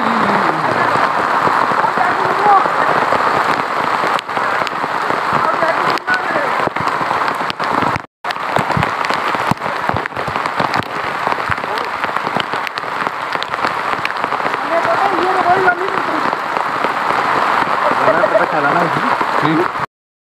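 Heavy monsoon-season rain pours steadily in a jungle near a waterfall, a loud, dense patter on surfaces with occasional voices under it.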